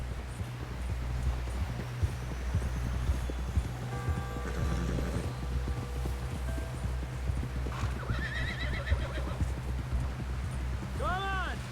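A horse gallops in the video game Red Dead Redemption 2: rhythmic hoofbeats pound steadily under a constant low rumble, with a whinny near the end; voices speak at points over the galloping.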